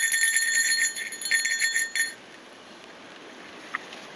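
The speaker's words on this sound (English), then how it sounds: "There's your bell." A small bell jingles in a few light shaking bursts during a hike through a blueberry forest, then falls quiet amid faint outdoor ambience.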